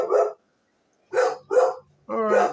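A dog barks nearby indoors, four short sharp barks with a pause after the first, then three in quicker succession, loud and alone without talk.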